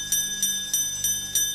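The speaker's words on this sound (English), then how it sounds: "Toby rang his bell as loud as he could." Toby the tank engine's bell rings in five evenly spaced, bright metallic strikes, each leaving a sustained ringing tone in the background.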